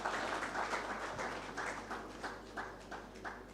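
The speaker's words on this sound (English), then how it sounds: "So can I request that we clap for our platinum sponsor," At the Insurance Brokers Association of Uganda conference, an audience claps for platinum sponsor Sanlam, a faint, fairly rhythmic patter of hands over a steady low hum.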